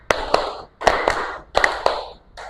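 Pairs of hand claps follow a classroom clap pattern, with three crisp, evenly spaced double claps ringing close and loud and a final clap starting at the very end.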